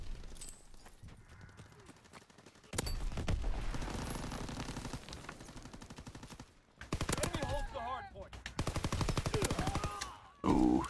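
Rifle and machine-gun fire in ranked Call of Duty WW2 multiplayer comes in several loud bursts separated by quieter stretches, with lighter footstep-like sounds between volleys.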